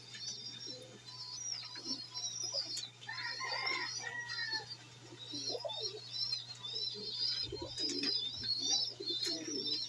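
Pigeons coo softly and repeatedly over a steady background hum, with scattered chirps from other birds throughout.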